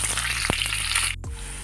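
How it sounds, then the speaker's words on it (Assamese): Whole peeled potatoes frying in hot mustard oil in a pan, a steady loud sizzle with a couple of sharp crackles before the sound briefly cuts out. "আৰু তেলখিনি গৰম হোৱাত ইয়াতে এতিয়া গোটাকৈ বাকলি গুচাই থোৱা আলুকেইটা দি দিছোঁ।"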